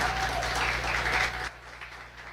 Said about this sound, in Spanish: Dele un fuerte aplauso al Señor en esta jornada.